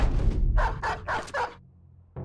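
A dog in the video game Battle Brothers barks four times in a quick series of close, loud yips over low rumbling game ambience, then falls quiet before another sound cuts in.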